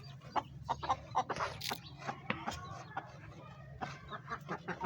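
Chickens cluck and chatter busily nearby, short repeated clucks overlapping in a continuous flock murmur.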